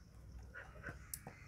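A dog in the video game Minecraft lets out a few short, faint whimpers and yips over quiet game background noise, with no talking.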